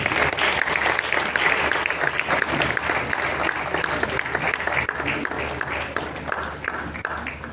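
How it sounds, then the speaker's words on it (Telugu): A church congregation applauds steadily for several seconds at a bishop's birthday celebration, a dense wash of clapping that fades slightly toward the end. "చప్పట్లు కొడదాం"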